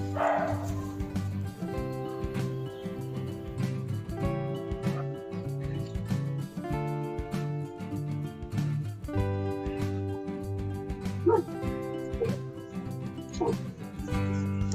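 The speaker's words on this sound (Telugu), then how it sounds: "కుక్కల గోల ఎక్కువైపోయింది మాకు." Many dogs bark outside a home kitchen, repeated bow-wow barks and yips in irregular bursts across the whole stretch, heard from a moderate distance.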